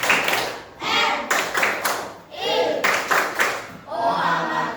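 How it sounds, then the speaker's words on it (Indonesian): Schoolchildren in an Islamic primary classroom perform a rhythmic clap chant, with bursts of hand claps alternating with their chanted voices in a quick repeating pattern, fairly close and lively. "Baik anak-anak, tepuk MI."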